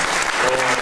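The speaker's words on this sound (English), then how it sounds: "But a round of applause for Anupama." A brief, steady wash of audience applause at a charity event, many hands clapping close together with no pauses.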